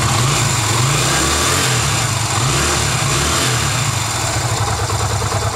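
A Yamaha XV 250 Virago motorcycle engine runs and is revved after a fuel filter change, a steady, rough mid-pitched rumble that surges slightly, heard up close with no talking.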